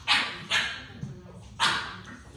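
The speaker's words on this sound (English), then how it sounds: "dogs are driving me crazy" Dogs bark in three sharp, loud bursts spaced about half a second and then a second apart, fairly close, with no talking over them.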